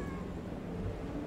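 A cat sitting on a big outdoor trash pile gives a short, faint meow, heard briefly and alone against a low background hum.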